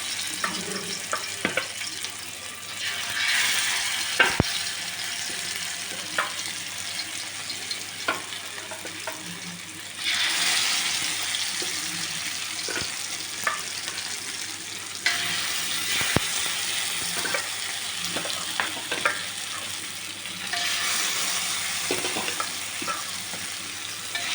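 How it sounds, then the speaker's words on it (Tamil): Kola fish frying in hot oil, a quiet, continuous sizzle that swells in a few bursts, with scattered clicks and scrapes of handling in the pan. "இப்போ இதில் வச்சிடலாம் நல்லா எண்ணெய் காஞ்சிருக்கு பாருங்கள்"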